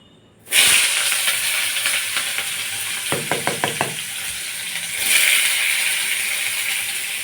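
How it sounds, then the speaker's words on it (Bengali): Chopped onions dropped into hot oil with bay leaf for a soybean dish, a sudden loud hiss that settles into a steady close sizzle, with a quick run of scraping stirs and a second surge of hissing. "পেঁয়াজটা একটু লাল করে ভাজা হয়ে যাক।"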